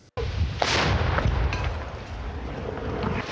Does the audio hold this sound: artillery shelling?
yes